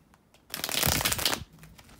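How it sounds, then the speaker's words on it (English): Tarot cards being shuffled by hand, a single quick riffle of rapid flapping and rustling close up that lasts about a second, with quiet before and after. "bear with me a second, guys, to shuffle the tarot cards"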